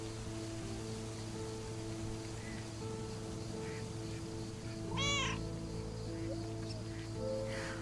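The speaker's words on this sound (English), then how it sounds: "You're the cat lady, and you've got more cats than ever." A cat meows once, a clear rising-falling call standing out over a steady background hum, with a fainter meow near the end.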